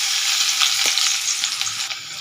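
Chopped garlic frying in refined oil in a pan, a bright continuous sizzle with a brief stir or clink partway through, close and alone.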